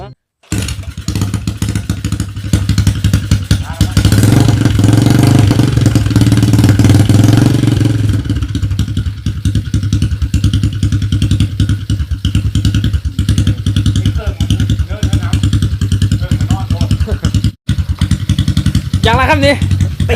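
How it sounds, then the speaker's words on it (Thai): An idling 125 Open motorcycle engine warms up with a steady, loud, rough exhaust rumble throughout, revving briefly early on, while people talk nearby. "ครับวอร์มเครื่อง วอร์มเครื่องก่อนไม่ได้ติดนาน"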